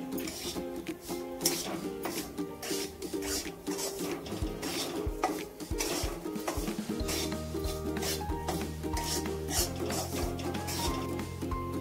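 Semolina roasting in a pan for jaggery sheera, stirred with steady scraping and light metallic clinks over a continuous tonal musical background, moderately loud throughout.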